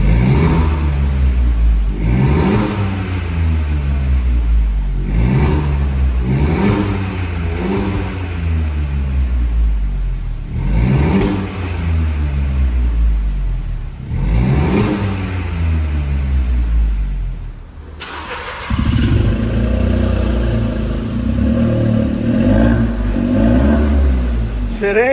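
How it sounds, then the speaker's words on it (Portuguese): A VW Polo 1.0 TSI fitted with a full stainless steel 304 exhaust diffuser revs repeatedly in loud, close bursts that rise and fall in a regular rhythm, then shifts to a different, rougher drone near the end. "Vou filmar você acelerando aqui, aberto e fechado."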